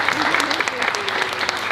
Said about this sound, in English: give them a clap, go and sit down